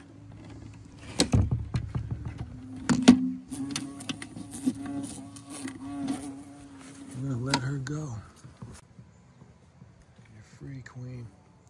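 Yellowjacket and paper wasp queens buzz as they are released to fly off, the droning hum rising and fading in short bursts under a person talking.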